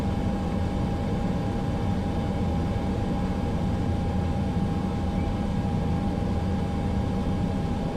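Single-engine airliner taxiing in Microsoft Flight Simulator 2020, a steady droning engine rumble with a constant whine, continuous and unchanging throughout.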